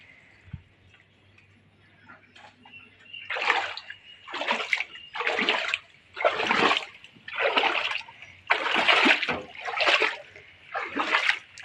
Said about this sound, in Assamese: চবফালে পানী পানী পানী, সাগৰ সদৃশ হৈ আছে